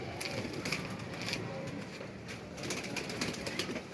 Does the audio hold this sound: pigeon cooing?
yes